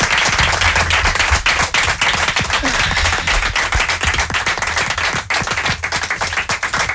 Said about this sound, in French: Et on va vous applaudir.